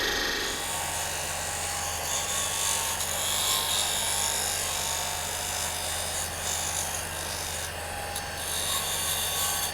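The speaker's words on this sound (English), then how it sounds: "Use a skew to scrape this little area right here." A skew chisel scrapes spinning mesquite wood on a lathe, giving a continuous loud, hissing rasp over the low hum of the machine, steady throughout with no talk.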